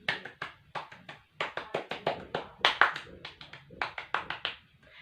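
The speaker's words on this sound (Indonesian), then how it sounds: "2 kali tepuk pramuka" Rhythmic scout clap chant (tepuk pramuka) performed by a small group, a patterned series of sharp, close hand claps in quick bursts with brief pauses, loud and clear with no talking.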